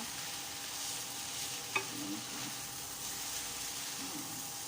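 Pad Thai noodles with vegetables and tofu are stir-fried in a pan, a steady, close hiss of sizzling oil with a brief clack of a utensil against the pan and soft scraping, with no talk.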